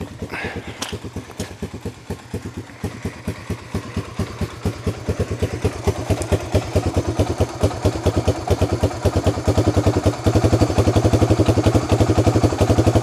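A vehicle engine idles roughly and close to stalling, its uneven chugging pulses growing louder and faster over time, with a few clanks early on.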